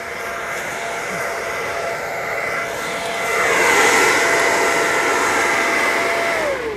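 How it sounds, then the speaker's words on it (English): A steady motorized whoosh of a leaf blower running nearby, growing louder midway, with no talking. "Pardon that she's blowing her leaves here, so you're going to hear that."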